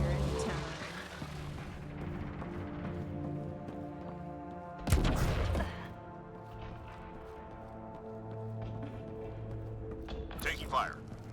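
Gunfire in a Mass Effect Andromeda firefight, a heavy booming burst near the middle and a few sharper cracks later, set against droning game music with voices talking throughout.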